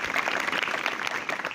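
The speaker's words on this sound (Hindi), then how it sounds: "एक बार ताली बजाओ।" An audience of schoolchildren applauds during a school speech, a dense, steady burst of close clapping with no talk over it.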